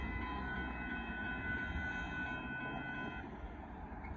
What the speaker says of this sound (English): There goes Amtrak Texas Eagle